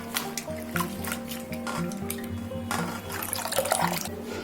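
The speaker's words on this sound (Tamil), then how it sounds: "இப்போ கடைசியாக நான் கொத்தமல்லியை போடுறேன் தண்ணியில்" Coriander leaves are washed by hand in a vessel of water, with sloshing, splashing and light dripping sounds close by, mixed with faint clinks of a dish or pot.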